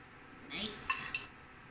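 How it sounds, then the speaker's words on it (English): A utensil gives egg a brief stir in a pan, a soft scrape followed by two light metallic clinks, close and quiet. "just give this a little stir"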